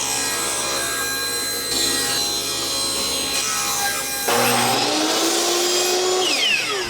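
Thin wooden roof pieces for a small decorative Christmas church are cut to one inch with a saw, giving steady rasping strokes close by that turn sharper and brighter partway through, with no talking.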